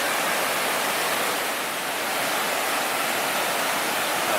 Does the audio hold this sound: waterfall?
yes